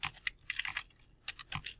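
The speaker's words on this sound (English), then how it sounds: "So I'm typing my last name and the file that I'm making." Quick, close keystrokes on a computer keyboard come in two short bursts of typing, with a brief pause between them and no talk.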